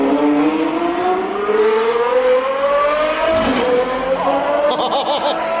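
A Ferrari F12 engine with aftermarket exhaust revs hard, its pitch climbing steadily, then crackles and pops from the exhaust as the throttle lifts, loud and close.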